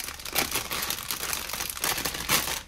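LEGO Creator MINI Cooper MK VII 10242 parts bags being torn open give a close, steady run of plastic crinkling and rustling with a few sharper crackles, and no one speaks.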